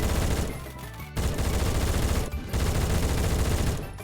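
An HK416 rifle fires in Phantom Forces in long, loud, dense automatic bursts heard up close, broken by two brief pauses.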